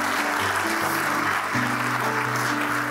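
Church congregation applauding during a sermon, a thick, continuous wash of many hands clapping, loud and sustained with low tonal sound from music or organ underneath.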